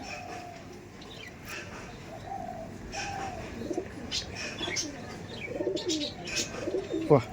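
Bengal Phulshira pigeons coo softly and intermittently against a steady background hum, with faint scattered chirps and no voices.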